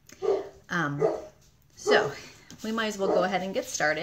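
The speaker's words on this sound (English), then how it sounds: "Please excuse my dog barking." A dog barks indoors in several short bursts, some close and sharp, mixed in with someone talking over it.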